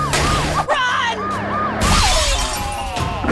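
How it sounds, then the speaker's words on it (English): Cartoon police sirens wail, rising and falling in a repeating pattern, joined by a sharp crash of breaking glass partway through. "it took a lot of sirens and breaking laws"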